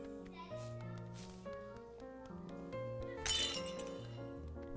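A pint glass drops and shatters in Untitled Goose Game, a bright crash of breaking glass over steady, playful background music.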